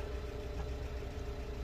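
A 2010 Renault Clio Tourer's petrol engine idles in cold weather with a steady, even low hum and a constant drone that never rises or falls over the short stretch.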